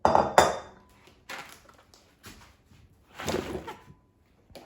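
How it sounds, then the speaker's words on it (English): Pieces of potato dropped into a bowl, a few separate knocks and clatters spaced apart, with a sharper cluster at the start and softer taps afterward. "So now let's put potato pieces in a bowl."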